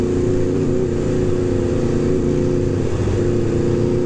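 An Aprilia RSV4 RR motorcycle drones at a steady, loud pitch, with a slight shift midway as if changing gear, engine noise continuous with wind rush.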